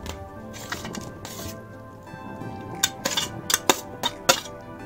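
Mushroom tikka pieces being stirred into thick masala gravy in a pan, with a low wet bubbling bed and a few sharp clinks of a spoon against the pan edge near the end.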